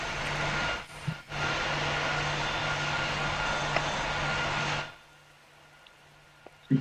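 A Boeing 737 in the flight game PTFS makes a steady, loud jet engine roar that holds for several seconds, then cuts off to a quiet hum.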